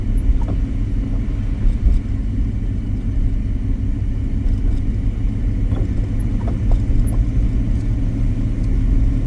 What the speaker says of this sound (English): just driving in snow